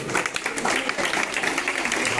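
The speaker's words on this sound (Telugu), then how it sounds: "ఒకసారి చప్పట్లతో ఈ ఉత్సవాన్ని నింపండి సార్కి మీ చప్పట్లు" Students applaud their PD sir at a National Sports Day celebration at ZPHS Boys school in Metpally, producing a steady burst of crowd clapping that lasts the whole moment, with a voice faintly audible beneath it.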